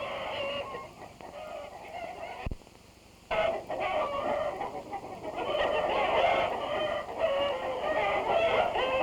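A flock of hens on an egg farm of 8,000 birds clucks continuously, a dense, busy chorus of overlapping calls with a brief dip in the middle.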